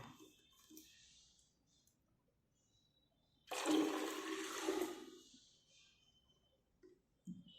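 Water poured out of a container holding a coin, a brief splashing gush of about a second and a half against an otherwise quiet room.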